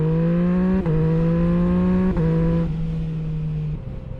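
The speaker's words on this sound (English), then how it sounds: "the popping on the decel is definitely greatly reduced" Yamaha MT-09 motorcycle engine running steadily near at close range, with its exhaust tone stepping down in pitch twice as it decelerates, a few faint pops in the deceleration and no speech.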